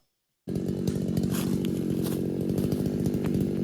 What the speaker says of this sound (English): I'm going to come in with the tip of the chainsaw and go right through the middle